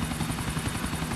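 Helicopter rotor in Grand Theft Auto IV, a steady loud chopping drone with dense rotor thump and engine whine, continuous throughout with no voices.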